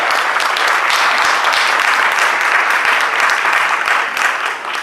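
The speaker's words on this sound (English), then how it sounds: "Give our guest presenter tonight and rating expert a round of applause, Douglas Heller." Loud, steady audience applause at a town hall, many hands clapping together in a dense, continuous wash that tapers slightly at the end, with no voices over it.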